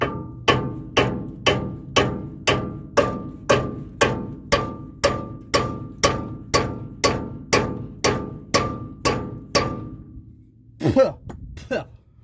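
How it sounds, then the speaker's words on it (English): Sledgehammer blows on a radius arm bushing of a 1976 Ford Dentside truck: about eighteen sharp, evenly spaced metallic strikes, loud and close, each ringing briefly, followed by a short clatter at the end. "I am going to just take the sledge"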